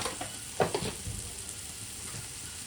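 Cumin, coriander and chili powder fry in oil and are stirred in a pan for an Uttar Pradesh style roasted eggplant dish: a faint, steady sizzle with a few soft scraping stir strokes near the start.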